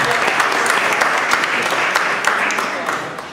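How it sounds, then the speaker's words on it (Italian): A seated audience at an art exhibition opening in Perugia gives warm, continuous applause, a thick wash of clapping that holds steady and eases off slightly at the end. "La accogliamo con un applauso."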